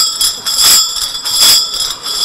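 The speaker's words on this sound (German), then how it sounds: "Das sind Glocken." Carnival bells ring at a street Fasnacht parade in Altstätten, close and loud, with bright metallic clangs that swell and fade in a regular pulsing rhythm.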